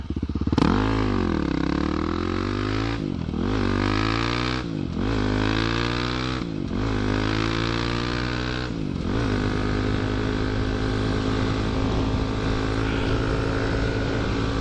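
A dirt bike engine roars close up while riding, revving up and down through several rising and falling pitch sweeps as it shifts, then settling into a loud, steady drone with no talking.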